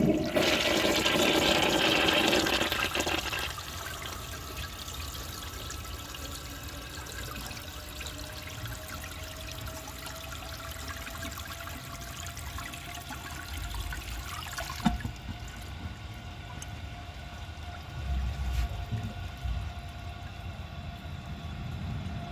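A 1966 Crane Whirlton low-tank flushometer toilet flushes with a dish towel in the bowl, a loud rushing burst for a few seconds that settles into a steady refill trickle and hiss, with a couple of small knocks.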